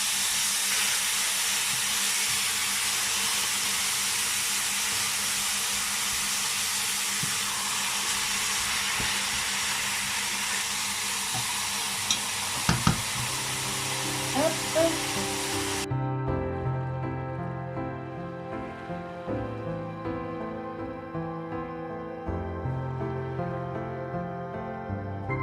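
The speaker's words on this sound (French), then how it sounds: "Alors la viande commence à griller, vous voyez, ça commence à attacher un peu au fond." Partly frozen meat sizzling in an air fryer, a steady loud hiss and roar of the fan and cooking that cuts off partway, leaving a quieter hum with faint clicks and rattles close by.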